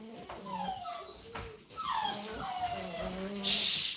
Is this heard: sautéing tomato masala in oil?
no